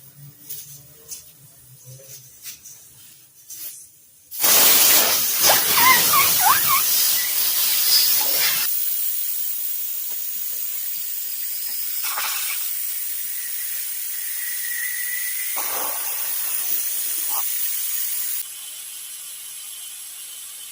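Air rushes out of a truck tire on a 1998 Dodge Ram 1500 through the valve stem once the needle valve is removed: a loud, steady hiss starts suddenly and runs on, close by.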